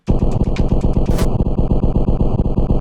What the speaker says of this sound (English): I did this really cool thing where I actually pitched the snare down like crazy.